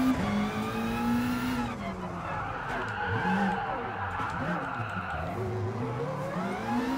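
A grade B Subaru in the racing game Gran Turismo Sport, its engine note climbing and wavering under full throttle, with tire squeal and a faint voice in the background.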